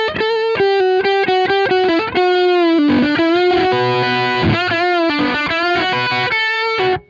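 Electric guitar through an Origin Effects RevivalDRIVE overdrive plays a run of sustained, gritty notes, each attack briefly softened by compression-like sag before swelling; loud and close, no talking.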